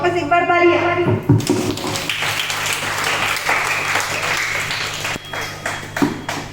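Audience clapping at an informal gathering, a broad wash of applause that rises after a brief opening and continues unevenly, with voices talking over it.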